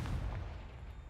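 A Confringo fire spell from Hogwarts Legacy detonates as a single low, booming blast that rolls out and fades over about a second, alone and moderately loud.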